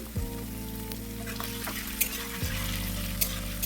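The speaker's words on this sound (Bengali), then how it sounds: "রসুন আর আদা হালকা করে প্রথমে ভেজে নিতে হবে" Chopped garlic and ginger fry in oil in a wok for egg fried rice, making a constant close sizzle with occasional stirring clicks over a steady low background hum.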